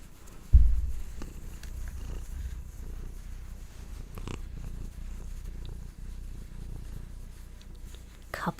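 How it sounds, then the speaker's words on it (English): A cat purrs softly and steadily up close, a low rumbling drone that continues throughout after a brief bump at the start. "Couple of little purrs."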